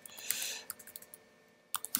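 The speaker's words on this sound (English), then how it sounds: "I'm just typing something in here" Keys on a computer keyboard click in quick, irregular bursts of typing, close and fairly quiet, with a short pause before a final few keystrokes.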